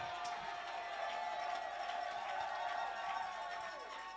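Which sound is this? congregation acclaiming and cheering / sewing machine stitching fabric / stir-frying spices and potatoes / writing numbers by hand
congregation acclaiming and cheering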